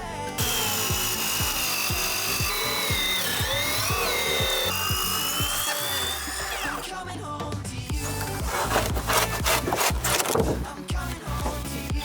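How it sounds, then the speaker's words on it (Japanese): Steady, loud rasping saw strokes cutting insulation board to size in an attic during a home build, a continuous scraping rhythm that gets rougher and more broken toward the end, with no voices. "それじゃあ断熱材測って切ってやっていきたいと思います。"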